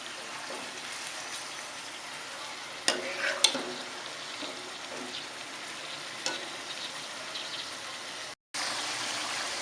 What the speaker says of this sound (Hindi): थोड़ी देर इसे भुनेंगे जब तक चिकन का कलर चेंज नहीं हो जाता।